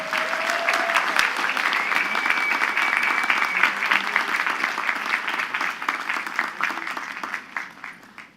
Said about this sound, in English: one big round of applause for our commencement speaker